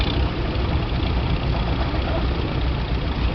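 A Case model DC row-crop tractor with big wheels runs in a steady, continuous low rumble, loud and close, with no distinct changes in pitch over the short stretch.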